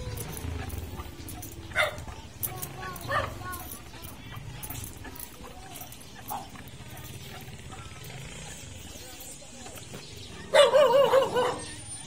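A few dogs bark in a residential village street during a stray dog round-up, scattered yaps spread through the clip and a louder burst near the end, with people talking throughout.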